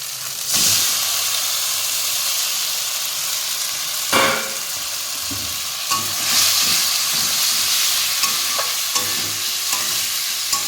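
Rohu fish pieces fry in spice paste and oil in a pan, giving a loud, continuous broadband sizzle with occasional sharper spatters and scraping stirs, no voices.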